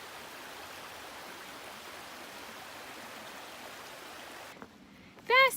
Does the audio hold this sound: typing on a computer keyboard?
no